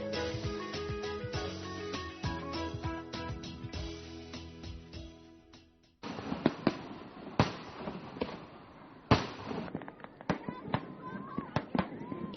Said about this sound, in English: With fireworks lighting up the sky in a zillion different colors